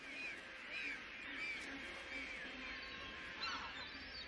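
A kelp gull calling on the Patagonian shore among penguins, a series of repeated short cries at moderate distance over a constant windy background.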